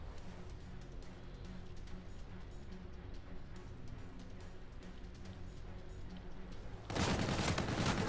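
Video-game gunfire in a 2v2 match: a steady rattle of shots runs through the clip, ending in a louder, denser burst over the last second.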